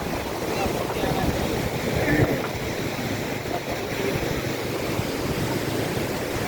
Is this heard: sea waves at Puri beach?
yes